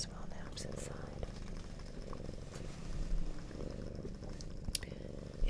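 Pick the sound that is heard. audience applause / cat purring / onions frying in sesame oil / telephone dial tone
cat purring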